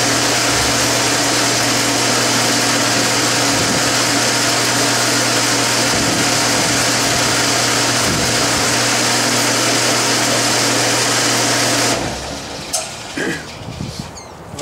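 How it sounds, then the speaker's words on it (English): A milling machine drills metal shims with a loud, steady whine for about twelve seconds, then cuts out, leaving quieter clinks and handling noises. "this is my setup for drilling the spacers or the shims"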